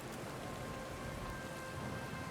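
Steady rain pours through a storm at sea in Pillars of Eternity 2: Deadfire as a ship sails in, a dense, constant hiss of raindrops with no voices.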